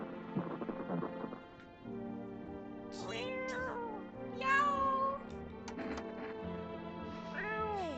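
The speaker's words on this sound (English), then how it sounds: "Oh, Kitty! Oh, you pretty cat." A cat meows several times in rising and falling cries, fairly close and clear, over a quiet background with a little soft human voice at the start.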